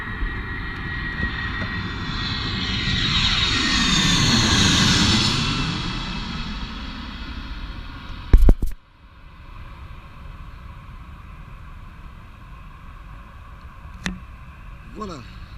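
A fixed-wing airplane roars along the runway at Geneva airport, its engine noise swelling to a loud peak and then fading into the distance, with a couple of sharp bumps nearby and faint background sounds afterward.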